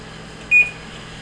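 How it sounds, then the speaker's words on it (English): A kitchen timer gives one short, clear beep during a session of oven-baking sweet potato shoestrings, close and alone against a quiet room. "Set my timer again."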